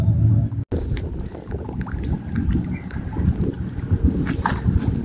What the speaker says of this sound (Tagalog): Malakas ang hangin, parang uulan.